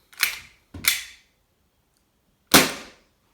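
Three sharp, snappy shots from a WE Glock 18C airsoft pistol loaded with a standard magazine, two in quick succession and a third after a short pause, each crisp and close with a brief decay.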